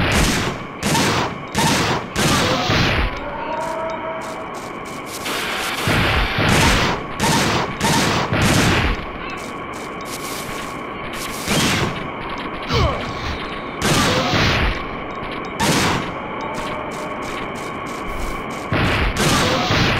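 Repeated bursts of gunfire from the video game Dino Crisis 2, loud and close, firing in quick rapid volleys with short gaps between them across the whole stretch, with no talk over them.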